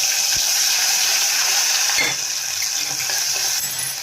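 Mustard seeds, asafoetida and ginger-garlic-chili paste hitting hot oil, a loud steady sizzle and hiss with a few sharp clinks of a spoon against the pan.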